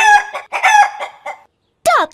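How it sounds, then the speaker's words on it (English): A hen clucks loudly in a quick run of close, sharp calls, then falls silent before one final drawn-out squawk. "She clucked loudly."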